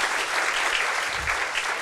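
Audience at a UPSC civil services toppers' talk bursts into dense, loud applause, sustained clapping throughout with no voices over it.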